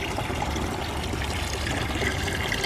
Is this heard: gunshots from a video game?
no